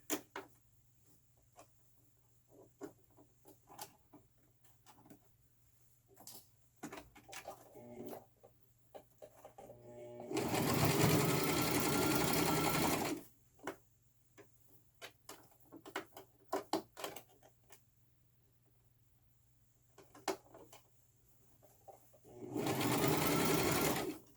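A sewing machine stitches hair wefts onto a frontal wig in two sustained, loud bursts of fast whirring, with quiet handling clicks and rustling between runs.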